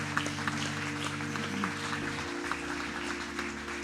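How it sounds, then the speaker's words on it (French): A church congregation at Sunday service applauds a family, with soft steady clapping over a sustained organ or keyboard chord that shifts lower partway through. "On peut applaudir la famille Dani."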